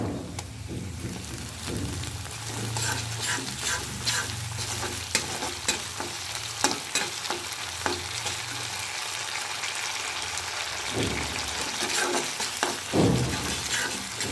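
Ginger-garlic paste fries in a pan for a lentil and gourd dish, crackling and sizzling under repeated spatula strokes that clack and scrape irregularly against the metal over a steady background hiss, without speech.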